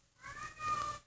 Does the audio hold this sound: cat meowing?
yes